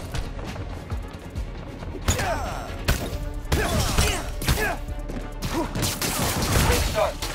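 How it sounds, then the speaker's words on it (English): Gunfire and combat impacts in Marvel's Spider-Man game: loud bursts of shots, crashes and thuds clustered in rapid volleys, with game voices talking over the action. "Watch out for gunfire."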